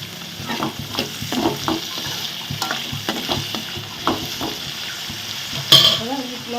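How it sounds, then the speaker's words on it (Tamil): Cut green beans tossed into a hot pan sizzle loudly while a spatula scrapes and stirs them in an irregular rhythm of knocks, with a brief clatter near the end. "இது கூட இருந்து நம்ம கட் பண்ணி வச்சுருக்க பீன்ஸையும் போடுறோம்"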